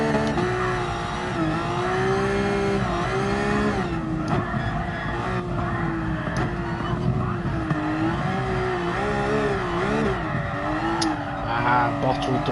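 Car drifting at the Red Bull Ring in Gran Turismo Sport, a constant revving engine whose pitch rises and falls with the throttle, mixed with skidding tire squeal, loud and up close, while someone talks over it.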